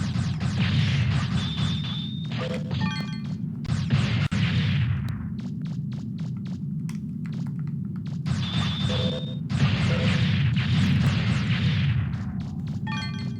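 Explosions in the MegaMan Legends video game burst in repeated loud crashes, with rumbling blasts and debris clatter in clusters, separated by sharp clicking game effects.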